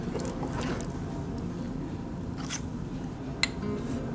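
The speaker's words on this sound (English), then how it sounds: "first we're going to stir it all in" Cheese and bacon get stirred into a thick baked potato soup, giving a continuous close, wet squishing with a few scraping strokes and one sharp click of a utensil against the pot.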